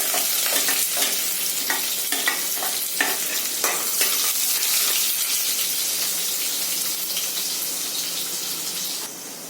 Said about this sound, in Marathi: हे झालं की लगेच कढीपत्ता टाकायचा त्यानंतर कांदा टाकायचा